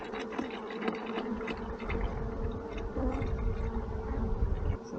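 Honeybees buzz steadily inside a hive that may be raising a queen, a dense, continuous near hum with a faint underlying drone and no voices.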